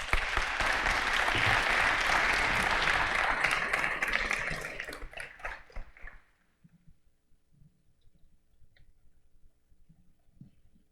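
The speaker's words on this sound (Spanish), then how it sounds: "Les pido un aplauso, por favor." Loud applause from an audience at a tribute ceremony fills the first six seconds, then quickly dies away to near silence with faint room noise.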